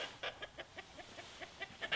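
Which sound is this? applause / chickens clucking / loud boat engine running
chickens clucking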